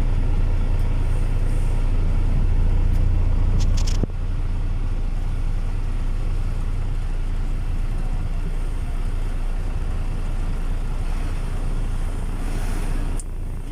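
Trucks and cars rumble one by one across the Magapit suspension bridge, a heavy steady low engine drone with a few sharp knocks and clatters, and no talk.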